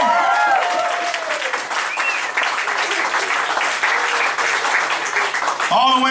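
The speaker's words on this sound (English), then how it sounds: "Give a round of applause to everybody so far." Applause from a comedy show audience, a steady dense wash of clapping filling the room for several seconds, fairly loud and continuous, with a voice starting to speak near the end.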